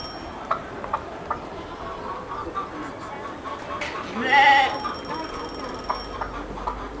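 A goat outdoors gives one strained, wavering bleat in the middle, moderately close, amid soft rustling and scattered knocks, with people talking faintly around it.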